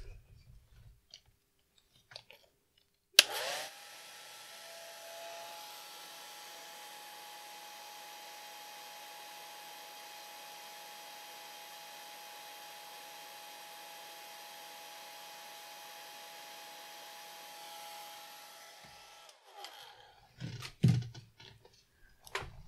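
A hair dryer blows steadily over a watercolor painting for about fifteen seconds, a constant whirring hum that starts abruptly with a click and stops, with quiet handling noises before and after.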